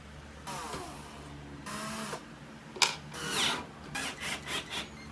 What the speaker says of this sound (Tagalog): Para hindi manumano yung screwdriver nyo.